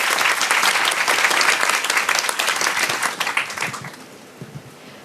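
A crowd applauds to welcome a speaker at a formal event, a dense wave of clapping that is loud at first, then thins and fades out toward the end.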